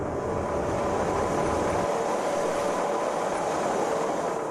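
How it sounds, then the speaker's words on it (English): Cogwheel train climbing the Pilatus mountain railway near Lucerne: a steady, loud rolling rumble with a faint mechanical hum, continuous throughout with no talk. "while I ratchet up on the cogwheel train"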